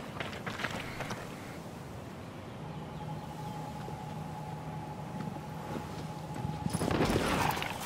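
Horse hooves gallop in the video game Shadow of the Colossus, a quiet, steady clattering rhythm that swells into a brighter, louder burst near the end.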